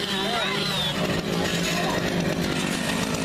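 A chainsaw revs at a Screamfest Halloween scare attraction, its engine buzzing continuously and loudly amid a noisy crowd with voices in the background.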